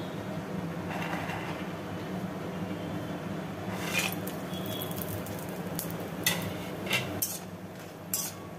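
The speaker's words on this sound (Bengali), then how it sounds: "এরপরে আমি বিউলির ডালের বড়ি ভেজে নেব।" Split black gram lentil dumplings fry in mustard oil in a wok, giving a steady close hiss with a few sharp utensil clinks toward the end.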